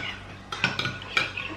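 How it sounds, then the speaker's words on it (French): A spoon clinks and scrapes against a bowl while stirring yeast, warm water and honey, with two distinct taps and light swishing, close and quiet, no voices. "Donc là j'ai bien mélangé"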